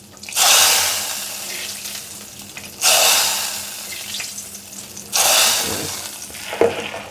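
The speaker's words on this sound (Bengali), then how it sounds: "আমি এখান থেকে কিছুটা ফোড়ন ডালে দেব।" Hot tempering spices poured into mixed lentil dal, three loud bursts of hissing sizzle, each flaring up and slowly fading, close to the microphone.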